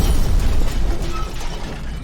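A tragic explosion sound effect from the horror-comedy film The VelociPastor, a loud low-end rumbling burst that stays heavy and sustained for the full two seconds, with some crackle and mechanical rattle layered over it.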